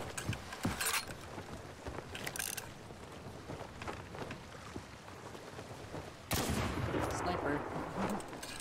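Sniper gunfire in an online multiplayer game, a few sharp cracks over a continuous layer of mechanical game sounds, with a louder burst of noise near the end.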